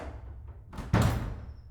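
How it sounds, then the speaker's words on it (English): A door in a house being opened, with a faint shuffle followed by a single solid thud and a short fading rattle, close by and without any talk. "The door is opened by Arav Rajvanshi"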